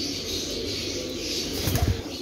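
Pigeons being readied for flying coo low and steady with a brief burst of wing flapping near the end, close and fairly loud against a busy background.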